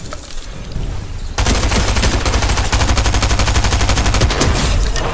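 Rapid SMG gunfire in Fortnite, a loud fast burst that starts after quieter game ambience and rattles on continuously for several seconds, with no talk.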